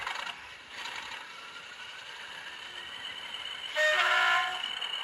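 A Bachmann Class 40 model diesel locomotive on a garden railway starts up through its sound unit. A low mechanical rumble builds into a louder burst of diesel engine roar, heard close and without voices.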